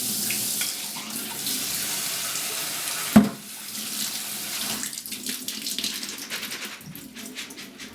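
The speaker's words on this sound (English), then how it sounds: "I'm just going to grab my strainer. And I'll probably just give them a quick rinse." Raw sunflower seeds rinsed in a strainer under a running kitchen tap: a steady rush of water, a sharp knock partway through, then spattering, uneven splashing as the seeds are shaken under the stream.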